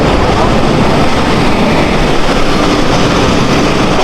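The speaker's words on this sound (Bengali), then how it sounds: "আমাদের ট্রেন প্ল্যাটফর্মে ঢুকে পড়েছে।" Mumbai Mail train pulling into a station platform, with a loud, constant broadband rumble and roar and no distinct breaks.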